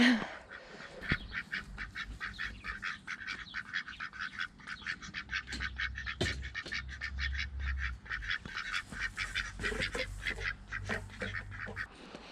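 A group of ducklings on a small farm: constant rapid high-pitched peeping calls, close and overlapping, with some low background rumble, and no talk.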